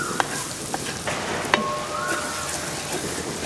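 Ingredients such as spices and greens for a palak green chicken dish sizzle and fry steadily in a pan, with a few sharp clicks of stirring and no talk.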